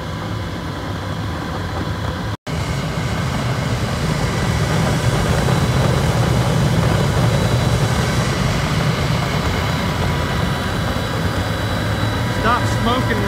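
An oil burner with a 4 gallon per hour nozzle fires a reverberatory tilting hearth furnace used for melting and metal separation, giving a loud, steady roaring rush that runs without letup, broken only by one brief cut near the start.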